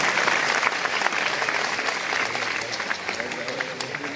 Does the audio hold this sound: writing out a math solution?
no